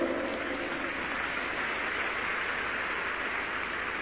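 A church congregation claps continuously in a steady, dense wash of applause with no voices on top, even and moderately loud from start to finish.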